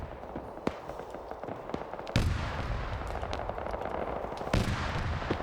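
Gunfire from a BMP vehicle during a PvP video game match, dense crackling shots under steady battle noise with two heavier bursts landing partway through.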